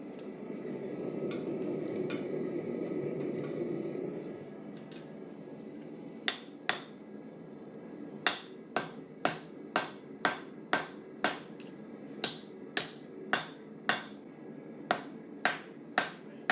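A hammer striking hot steel while a Deba knife is forged, heard as sharp, ringing blows in a steady rhythm of about a dozen strikes, close and loud, following a few seconds of low roaring fire.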